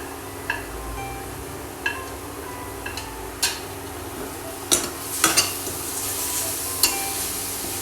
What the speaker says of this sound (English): Now stir it well